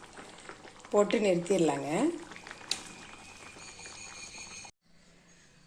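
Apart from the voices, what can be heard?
mango gravy simmering after adding curry leaves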